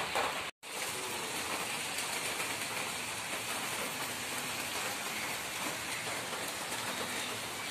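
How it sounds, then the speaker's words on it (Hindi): Heavy rain pours down in a steady, dense hiss close by, unbroken except for a split-second cut near the start, with no voices. "फुल ऑन बारिश,"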